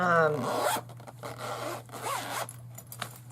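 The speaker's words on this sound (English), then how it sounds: "it zips up nice" A zipper runs along a flat, cushioned pencil case holding colored pencils, giving close, raspy pulls in several short strokes, with faint voice traces beneath.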